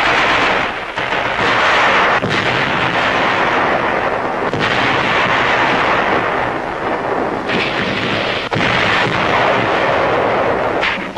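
Air and naval bombardment during the June 1944 battle for Saipan: loud, continuous artillery fire with heavy rolling booms and blasts merging into a thunderous roar, broken by a few sharper cracks.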